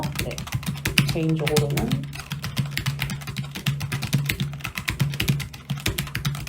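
Rapid typing on a Logitech G913 TKL keyboard, steady clicks of keys pressed close by with the fingertips, with a person talking in Korean over part of it.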